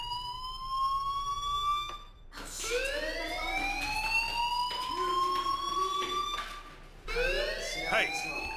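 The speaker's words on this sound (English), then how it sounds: "Hey, do you hear that fire alarm?" A fire alarm rings inside the video game Life Is Strange, a loud electronic siren tone that sweeps upward in repeating cycles, broken by short gaps, with faint background sound beneath it.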